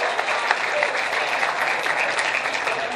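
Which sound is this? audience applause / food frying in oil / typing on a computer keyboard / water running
audience applause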